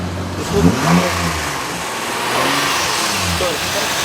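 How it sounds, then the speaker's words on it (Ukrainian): An SUV bought in the USA for soldiers idles with a steady, low engine rumble close by, while someone talks over it near the start and again later. "А мотор от послухай."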